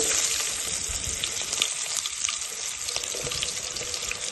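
Sliced onions frying in hot oil for a Telugu mattagidasa fish curry: a steady, close broadband sizzle and crackle with no voices, a few sharper pops standing out against the even hiss.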